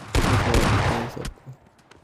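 Bursts of gunfire in a battle royale video game squad fight, a dense rapid volley for about a second followed by scattered fainter shots and clatter.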